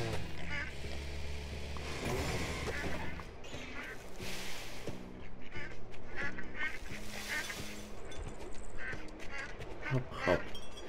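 Ducklings quack in the farming video game Farm Together, a cluster of short honking calls scattered across the scene while players talk over them.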